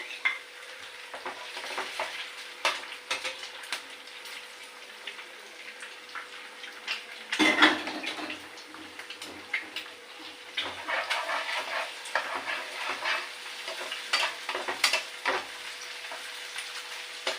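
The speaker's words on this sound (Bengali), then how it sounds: "এবারে ডিমগুলোকে দিয়ে দেবো ডিমটা ফাটিয়ে দিচ্ছিলাম" Cracked eggs frying with split green chilies in a pan, a steady close sizzle with scattered pops and a sudden louder crackle as the eggs hit the hot oil, no voices.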